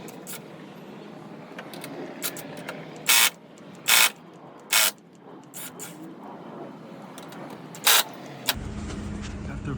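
Ratchet clicks loosen the top bolts during a coilover install on a 2004 Acura TSX, a few short bursts of rapid ratcheting spread over a quiet garage hum, ending with a low motor rumble.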